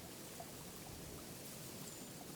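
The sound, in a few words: small waterfall trickling in a desert creek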